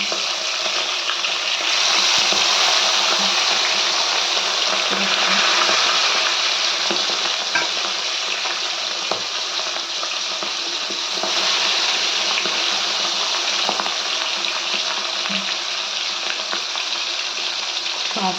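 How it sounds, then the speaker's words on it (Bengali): Fish sizzle and crackle in hot oil in a home kitchen, a dense continuous frying hiss with occasional pops and stirring clinks, steady and close throughout with no talking. "তেলটা গরম গরম হয়ে গেছে মাছটা দিয়ে দিলাম"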